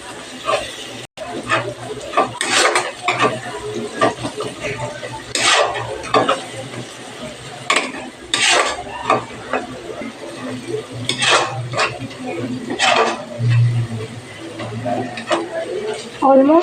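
Spiced masala with a little cumin powder and Kashmiri red chilli powder being stirred and sautéed in a pan for rajma dal: close, repeated spatula scrapes and clinks in an uneven rhythm over a low background.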